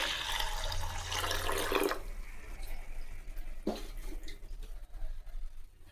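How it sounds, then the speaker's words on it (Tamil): Ration toor dal being rinsed under running water in a kitchen, a steady watery splash for about two seconds, then quieter trickling and a brief burst of water alone. "நல்லா தண்ணி ஊற்றி கழுவி எடுத்துக்கலாம்."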